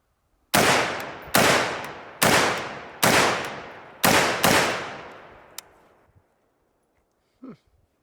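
Six loud, evenly spaced single gunshots from a Tommy Built TG36k rifle crack out about a second apart, each with a long decaying echo, followed by a small metallic clink and brief faint noise afterward, no talk.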